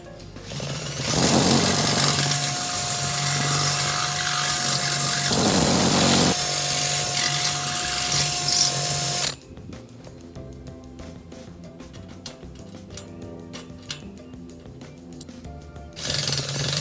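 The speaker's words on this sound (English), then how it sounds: "use this drill bit to open up this entry" A power drill with a bit bores open a hole in a trampoline part: a loud, steady whine runs for several seconds with short pauses, then stops and leaves quieter handling noises, with a brief burst at the end.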